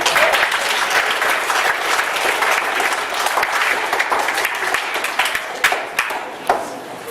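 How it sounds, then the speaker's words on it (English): A crowd at a smoke ceremony applauds loudly and continuously, a dense wash of clapping that gradually thins toward the end, with a few individual claps standing out. "round of applause"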